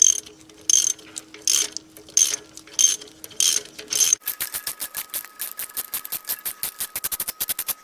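A ratchet wrench loosens a car's cylinder-one spark plug, giving bursts of rapid mechanical clicking, first in short separated strokes, then a faster continuous run of ticks, close and loud with no talk.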